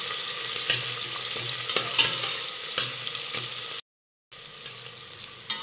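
Thinly sliced onion frying in a pan for brinjal rice, with steady crackling sizzle and repeated scraping stirs, fairly close and continuous, briefly cutting to silence near the end before the sizzling resumes.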